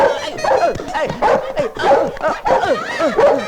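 A real dog barks and yips in a Hindi dubbed film chase scene, loud repeated bursts close up, tangled with frantic shouting voices.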